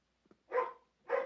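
A pair of dogs barks twice, loud and close, in a home. Each bark is a short, full burst about half a second apart, with a couple of faint ticks just before.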